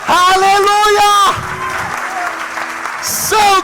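A church congregation clapping during worship, a brief burst of applause amid loud singing voices and a held musical tone, with the singing resuming at the end.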